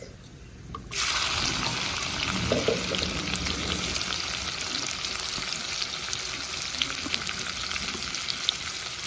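Onions hitting hot oil after whole garam masala tempering, bursting into a loud, continuous close sizzle that holds steady with faint stirring clinks throughout.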